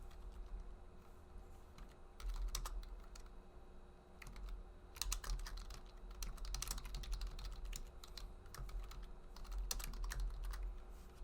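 Quick bursts of typing on a computer keyboard, with irregular clusters of clicks that start and stop, recorded close and fairly quiet over a low background hum.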